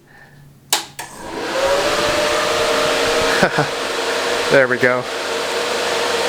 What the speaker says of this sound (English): sorry if you can hear the fan noise right now.